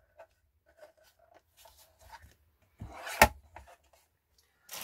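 A paper guillotine slices through a sheet in one brief, crunching chop. Quiet handling noises and soft shuffling come before and after the cut, with no voices.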